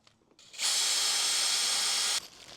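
A power drill with a 4.5mm bit whines steadily for about a second and a half as it bores through a metal lug into a ring beam, starting and stopping sharply, close and loud.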